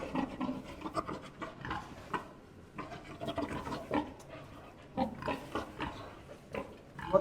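A large wild boar grunts and snorts at close range, a run of rough, breathy pig-like grunts repeating in irregular bursts with short pauses between them.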